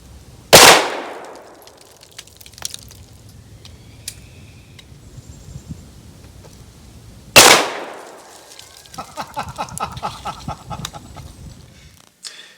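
Two sharp, loud shots from a CMMG Banshee firearm crack on an outdoor shooting range, several seconds apart, each followed by a fading echo, with clinks and handling noise between them.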